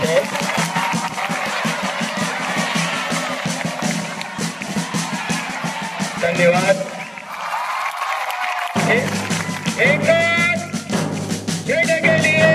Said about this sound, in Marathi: सर्वांनी टाळ्या वाजवते